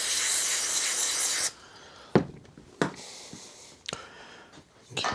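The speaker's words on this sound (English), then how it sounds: "We'll spray this bowl out and give her a blast with the air too." An aerosol cleaner hisses steadily into a lawn mower carburetor bowl, then stops, followed by several short, sharp compressed-air blasts spaced about a second apart in a quiet workshop.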